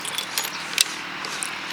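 Keys jangle close up while a key goes into the ignition of a Honda X-Blade 160cc motorcycle, a few light metallic clinks and rattles in quick succession.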